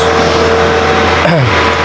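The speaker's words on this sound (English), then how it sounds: "So we're gonna leave the engine running like this." A Kia Niro hybrid with exhaust pressure fault codes idles with its engine running, heard close and loud as a steady hum with a brief rising whine near the end.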